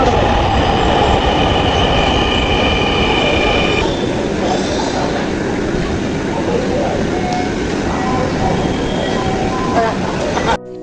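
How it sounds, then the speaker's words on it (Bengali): A Dhaka metro rail train rolls into an elevated station, a loud steady roar of wheels and rumbling carriages with a faint squeal as it slows, crowd murmur and chatter around it. "তারপর অবশেষে ট্রেন আসে।"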